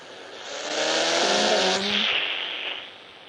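Nissan GT-R sliding through a drift in a racing video game: a loud engine roar with tire squeal building and sustained over about three seconds, then easing off, with no talking.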